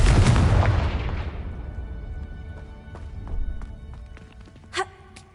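Confringo fire spell in Hogwarts Legacy bursts in a loud, broad explosion that decays over a couple of seconds, followed by faint rumbles and a short vocal sound near the end.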